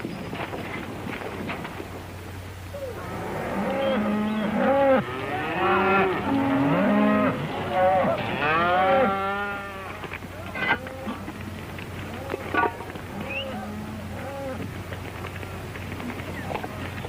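Cattle moo repeatedly at a 1930s Western cattle camp, several drawn-out calls overlapping in the middle of the stretch over a steady low background hum, followed by scattered softer sounds.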